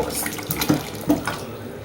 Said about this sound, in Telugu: ఇప్పుడు నేనైతే చింతపండు రసం పోస్తున్నాను